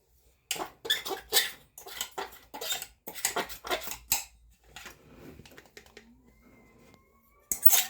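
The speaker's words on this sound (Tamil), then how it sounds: "இப்போ கொட்டிக்கலாம் சர்க்கரையை" Ground sugar poured into a pan of roasted semolina and grated coconut for rava laddu, giving bursts of dry scraping, clinking and rattling at close range, then a quieter stretch and a final loud scrape.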